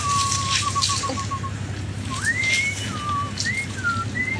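A safari guide whistles out in the bush, a clear rising-and-falling series of sharp notes, fairly close, over a steady background hiss.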